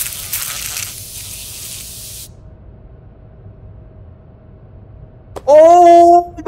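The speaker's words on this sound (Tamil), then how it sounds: "அப்போ இந்த ஸ்ப்ரேயை தூக்கி அந்த பட்டாம்பூச்சி மேலே அடிச்சா" A spray can hisses in a Backrooms video game as it is fired at a butterfly, giving a steady broadband spray for about two seconds, then a quiet hum and a brief loud tonal burst near the end.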